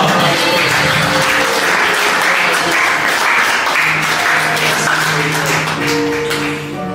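A church congregation breaks into loud, sustained applause, a dense wash of clapping that stays strong throughout, with some crowd noise mixed in.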